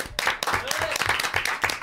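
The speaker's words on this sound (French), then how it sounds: "on peut applaudir à la régie quand même" Studio audience applause for the control room crew of a French live show, dense clapping lasting about two seconds with chatter and a voice mixed in.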